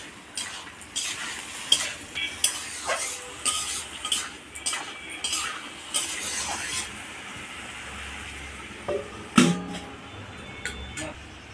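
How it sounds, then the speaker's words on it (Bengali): Spices and vegetables with salt, turmeric and green chillies stirred in a cooking pan, with a soft frying sizzle under repeated scraping and clattering of a utensil against the pan, ending in a sharper knock. "আমি নেড়ে চেড়ে ঢাকা দিয়ে রেখে দেব"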